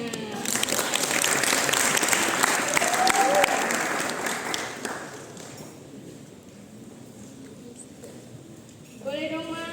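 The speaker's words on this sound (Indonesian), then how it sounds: "Tepuk tangan dulu dong buat masnya." Applause breaks out for a volunteer from the audience at a student theatre performance, the clapping dense for about five seconds before fading, followed by a quieter lull and then a voice speaking near the end.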